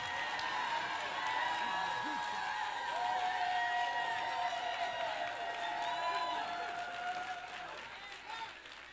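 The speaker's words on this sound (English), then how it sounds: "Those were women cheering the men on." A church congregation of women cheers and applauds a preacher at a service, a sustained, fairly faint wash of clapping and high-pitched shouting and whooping, with a few voices rising above it before it fades away.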